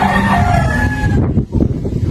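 A small Chinese chicken gives a squawky, crow-like call up close for just over a second, followed by a burst of rough clucking and scuffling noise.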